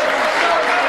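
Spectators at a Mosconi Cup 2000 pool match between Thomas Engert and Earl Strickland give a short, steady burst of polite applause, an even patter of many hands clapping close by.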